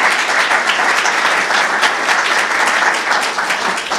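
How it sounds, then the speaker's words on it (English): Steady, full applause from attendees of a food recovery summit breakout session, many hands clapping evenly and continuously throughout. "Let's just give John a round of applause"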